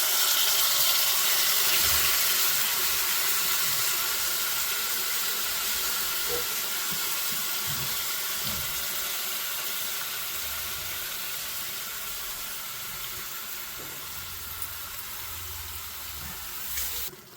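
Grated pumpkin sizzling in hot ghee in a pan, a steady close hiss that fades slowly over time, with no talk.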